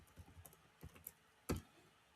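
Typing on a computer keyboard, a few scattered keystrokes in short bursts followed by one louder key press, close and quiet with no talk.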